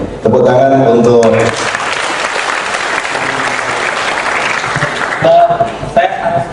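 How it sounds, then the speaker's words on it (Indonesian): An audience at an anti-corruption discussion bursts into loud applause, a thick wash of clapping with voices over it at the start and end. "Tepuk tangan untuk"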